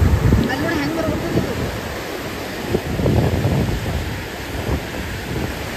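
Ocean waves crash on the Mumbai shore in loud, rolling surges, with heavy wind rumble on the microphone and roaring water throughout.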